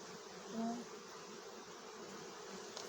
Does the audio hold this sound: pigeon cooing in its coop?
no